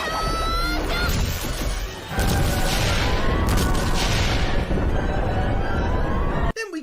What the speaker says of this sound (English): Then we get some sexy explosion